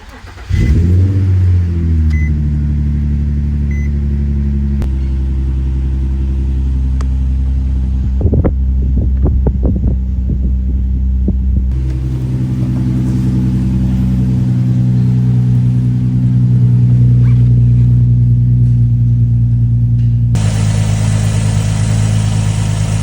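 A Nissan 350Z engine cranks, starts and settles into a steady, loud idle, with mid-range rumble and a few sharp revs partway through before it runs on evenly.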